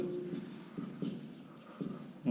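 A marker or chalk scratches across a board during an electrical engineering lecture on DC machines, with a series of short, soft strokes in an uneven rhythm, close and faint.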